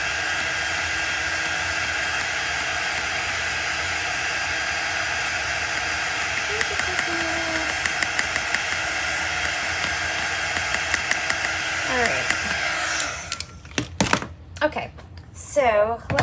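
Hair dryer blowing steadily on a chalk-stenciled wood block, a loud continuous whooshing rush that runs for about thirteen seconds before cutting off, followed by a few light handling clicks.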